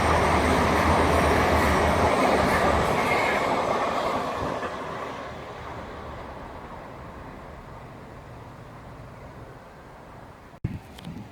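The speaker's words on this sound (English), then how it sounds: "So we now have a container train" A Freightliner container train rumbles loudly past at close range at Didcot Parkway or Oxford station, then its roar and rattle gradually fade into the distance, ending with a brief sharp knock.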